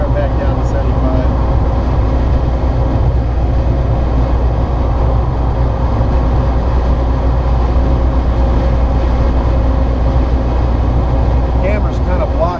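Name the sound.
electric Karmann Ghia conversion driving on the freeway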